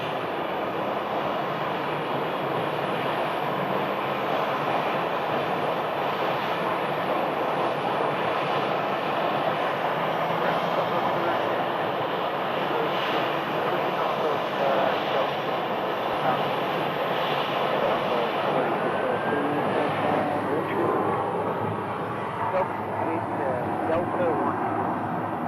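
A Boeing 737-700 airliner taxis into gate C2 at Phoenix Sky Harbor's Terminal 4, a continuous loud jet engine roar and whine that holds steady throughout, with a person talking over it.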